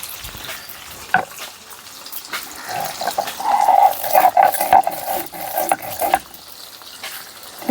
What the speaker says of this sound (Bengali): পনিরগুলো হালকা আছে ভাজা হোক,